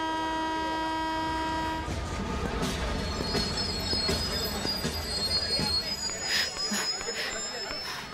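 At a railway station, a train's wheels squeal in a long sustained screech, then give way to rumbling and clattering rolling stock with high metallic squeals, loud and close.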